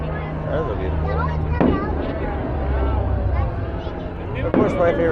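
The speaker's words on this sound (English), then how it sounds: "And we have a lot more fireworks coming up." Fireworks burst at a 4th of July celebration, two sharp bangs with crackling tails standing out over continuous crowd chatter and nearby talking.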